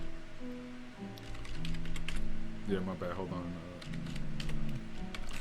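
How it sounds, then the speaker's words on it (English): Keys clatter on a computer keyboard in quick irregular clicks at a streaming setup, partly under a voice speaking briefly. "Typing over here."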